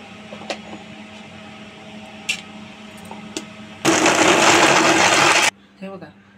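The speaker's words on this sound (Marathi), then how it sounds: "आता हे मी सर्व मिक्सरला पहिले खोबरं बारीक करून घेणार आहे" A mixer grinder grinds grated coconut in a loud, steady whir lasting under two seconds, with quieter kitchen clatter before it and a few scattered knocks after.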